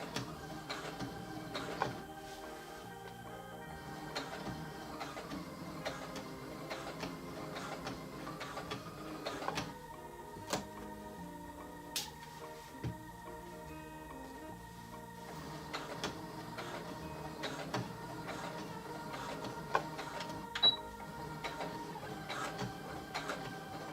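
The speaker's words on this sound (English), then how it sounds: "I'm going to sew back across this all the way." A home sewing machine runs steadily, stitching fabric for a car activity organizer, with a continuous close mechanical hum and rapid needle clatter for the full length and no voices.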